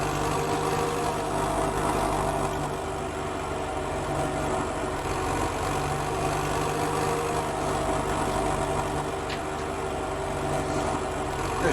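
A farm tractor engine runs steadily at a constant drone throughout, loud and close, with no pauses or changes in pace.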